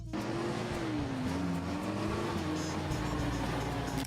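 A 1965 Pontiac GTO with a 389 cubic inch tri-power V8 rated at 360 horsepower runs in a steady, loud, close drone with a wavering engine tone, continuous for the whole stretch.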